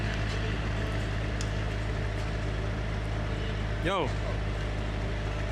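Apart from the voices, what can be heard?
sports car exhaust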